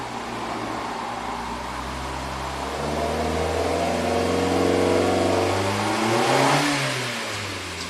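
A misfiring engine in a 2008 Suzuki SX4 revs up steadily, its drone climbing in pitch over several seconds then easing back, loud and close with a faint fan hum beneath.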